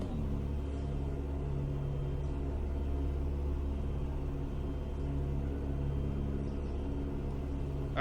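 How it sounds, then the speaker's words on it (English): Racing video game car engine at the Paul Ricard circuit in a GT car, a steady low droning hum with sustained tonal harmonics running continuously and evenly throughout. "I think you'll all still be able to hear me over the engine"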